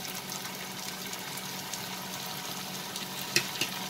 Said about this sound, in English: We'll saute this till the raw smell disappears.